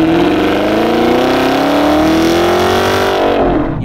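A 2017 Chevrolet Camaro SS's V8 revs hard and climbs steadily in pitch as it accelerates, loud and close, a deep throaty roar with no voices.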